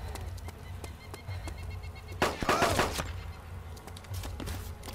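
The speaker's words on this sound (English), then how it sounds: "I hear gunshots." Sharp bursts of video game gunfire in ARMA 2 DayZ mod crack repeatedly over a low background hum, with a denser cluster of shots in the middle.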